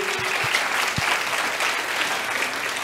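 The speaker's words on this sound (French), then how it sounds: "je vous demande de l'applaudir" A crowd at a mayor's New Year address in Port-Saint-Louis-du-Rhône gives a guest a brief burst of steady, close applause, with faint voices mixed in under the clapping.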